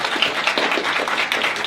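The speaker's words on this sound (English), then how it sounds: "I want to give all of you a big round of applause for being here" An audience at a startup demo night applauds, a dense, steady wash of many hands clapping close by throughout, with no voices standing out.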